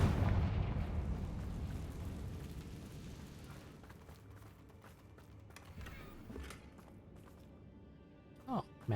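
A Confringo spell explosion in the video game Hogwarts Legacy opens with a loud burst that rumbles and slowly fades, followed by faint creaks and small debris clatters.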